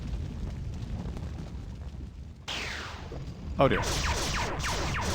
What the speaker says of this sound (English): That is the sound of teleportation happening.